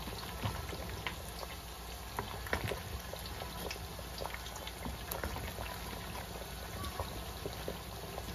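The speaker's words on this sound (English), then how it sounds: "we're gonna allow all our meat and our food to boil nicely" A pot of Jamaican mannish water, ram goat soup with meat, dumplings and yams, boils steadily with dense close bubbling and popping, a constant simmering texture throughout and no talk.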